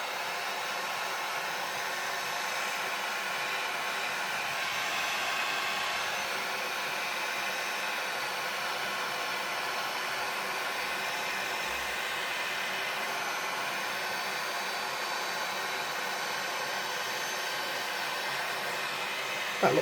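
A heat tool blows steadily for about twenty seconds while melting embossing powder on a card-making stamp, giving a constant, even whoosh and hum with no talking.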